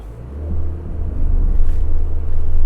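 A Subaru Forester's engine labours up a steep off-road slope, a loud, steady low rumble that rises slightly over a few seconds with wind buffeting the microphone.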